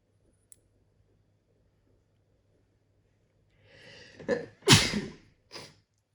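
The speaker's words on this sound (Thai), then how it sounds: "จามเฉยเลยนะ" A single close sneeze with a short breathy build-up, a sharp loud burst and a brief snort afterward, following near silence with a faint click early on.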